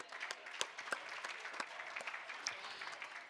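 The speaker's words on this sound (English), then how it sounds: "so how about a nice round of applause for them?" Scattered hand clapping for donors at a hybrid fundraising gala and live auction, a thin, fairly quiet patter with distinct individual claps popping out, continuing steadily without speech.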